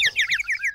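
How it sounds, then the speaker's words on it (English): Small cartoon songbirds for sale in a shop trill in quick, bright, rising and falling chirps, clear and close, with no talking over them. "We heard the birds singing, Rat."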